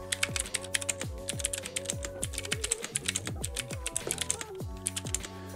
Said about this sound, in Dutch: De MX Blue switches geven je die bekende klik en tactiele feedback.